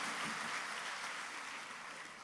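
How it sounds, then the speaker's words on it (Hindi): Audience clapping at a Hindi comedy poetry (hasya vyangya) stage show, a dense, steady wash of applause that stays loud throughout and tapers slightly near the end, with no voices over it. "एक बार तालियां बजा करके माहौल दे दीजिएगा।"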